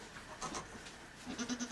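A goat in labour in a stall gives a short bleat, then a longer wavering bleat, both fairly close and clear over a quiet background.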